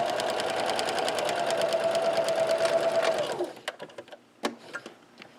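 A sewing machine stitches a drawstring backpack casing in a fast, even whir for about three seconds, then stops, leaving a few scattered clicks and handling noises.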